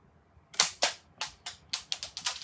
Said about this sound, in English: And you just shoot it.